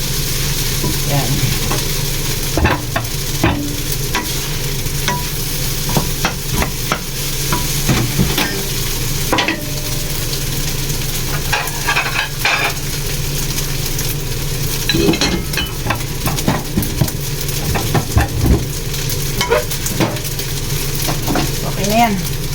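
Food fries in a home kitchen pan while being stirred, a continuous sizzle under frequent scraping and clinking of a utensil against metal, with occasional talk in the background.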